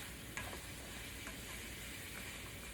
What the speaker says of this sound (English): I'm going to let that cook, and I'm going to stir that frequently